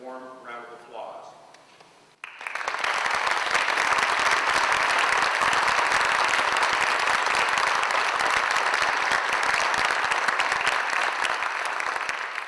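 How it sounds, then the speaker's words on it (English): A room full of people bursts into warm applause for Wall of Honor honorees after a brief spoken introduction; the clapping starts abruptly and stays loud, dense and sustained to the end. "let's recognize them with a warm round of applause"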